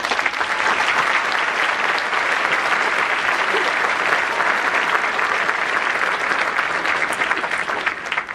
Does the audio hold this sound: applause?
yes